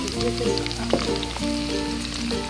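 Onions frying in a pan on a gas stove until light pinkish-brown, giving a steady close sizzle with scattered crackles and pops.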